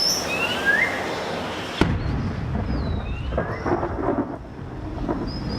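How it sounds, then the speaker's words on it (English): Thunderstorm with heavy rain in the Amazon rainforest, a sharp thunder crack followed by steady loud rain and rumbling, with faint bird calls or insect chirps over it. "In December, storm clouds gather, heralding the start of the heavy rains."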